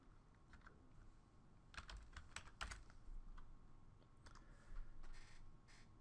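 Scattered keystrokes clatter on a computer keyboard in short bursts with pauses between, quiet and close, with no one speaking.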